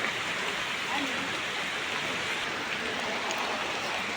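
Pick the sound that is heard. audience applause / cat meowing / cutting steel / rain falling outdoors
rain falling outdoors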